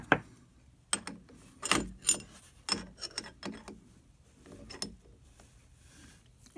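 A wrench working loose a router collet nut, with scattered metallic clicks, ratcheting taps and clunks in irregular bursts, close and fairly quiet, with no talking.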